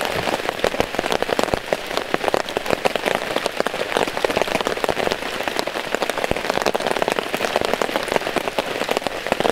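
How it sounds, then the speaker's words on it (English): Steady heavy rain pattering on a campsite tarp, a dense continuous patter of drops with no gaps, close and fairly loud throughout. "But it is raining."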